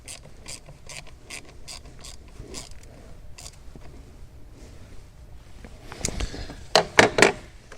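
A ratchet tightens the bolt holding a new boost pressure sensor on a vehicle, giving a quick series of close clicking strokes, then a louder, rougher burst of ratcheting near the end, with no talking.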